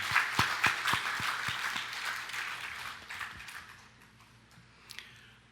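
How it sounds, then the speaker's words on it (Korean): Korean church congregation clapping to welcome the pastor's wife during a Sunday sermon, a short burst of sharp, separate claps that thins out and fades to a few stray ones near the end. "박수 한번 쳐주세요"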